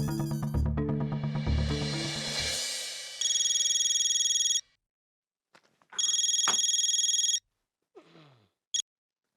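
An electronic telephone ringtone sounds in two long bursts separated by a pause, loud and close, followed by a short beep.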